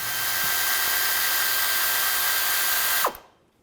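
A power tool removes oil pan bolts on a 2000-2006 Chevy Tahoe, giving a steady, close, high-pitched whir for about three seconds before cutting off and quickly winding down.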